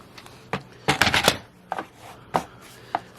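Material for an arched window pane being cut down the middle, heard as several short, sharp cutting strokes and snips in irregular bursts, close by and with no talking.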